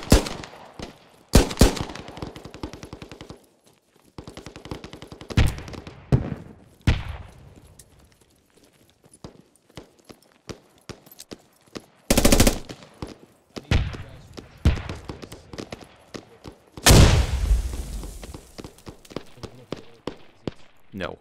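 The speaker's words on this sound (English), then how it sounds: "let's just see if there's any different sound on the other weapons" Weapon fire in the video game Squad, with repeated sharp gunshot bursts and volleys spread through the clip, some loud and close, others quieter, separated by short pauses.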